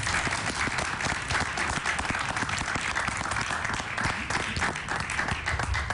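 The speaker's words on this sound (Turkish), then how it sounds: "Alkışlarınızla" Studio audience on TRT Avaz gives sustained, even applause as young Mücahit Kaşgarlı and his sister Sümeyye come on stage, dense clapping throughout at moderate loudness.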